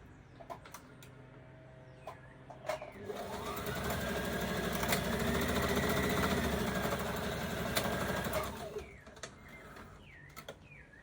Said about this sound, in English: And we're gonna sew this together.